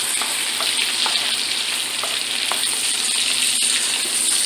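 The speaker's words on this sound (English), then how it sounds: "I'm not going to cook these shrimp all the way through because it's going to finish cooking in the sauce." Shrimp fry in a pan on medium heat, giving a steady, close, bright sizzle with small pops and clinks throughout, and no talking.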